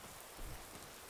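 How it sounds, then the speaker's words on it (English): Rain falls steadily in a zombie video game, a faint, even hiss of drops with one slightly louder low thud partway through and no speech. "Forever raining, isn't it, in this pack? Almost forever raining."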